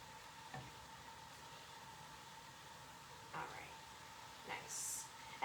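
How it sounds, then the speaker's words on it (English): Bell peppers and onions sauté in a pan for a Tex-Mex casserole, a faint, steady sizzle broken by a few soft scrapes of stirring. "You want to make sure that you're tossing this around so that your bell peppers and onions get equal chances to experience the heat and cooking process."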